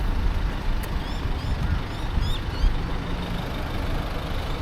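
Steady, loud traffic rumble at a busy intersection with roadworks in Margate, Queensland, with trucks and buses idling and passing close by and brief high squeals over the continuous engine noise.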